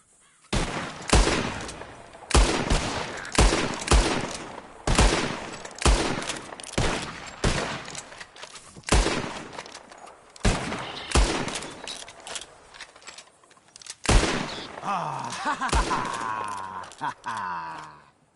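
Repeated gunshots fired at flying birds in Red Dead Redemption 2, loud sharp cracks in irregular bursts, some close together, with game ambience and faint voices between shots.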